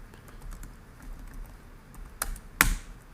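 A few soft, sparse keystrokes on a computer keyboard, close by and quiet over faint background hiss, with two sharper clicks near the end.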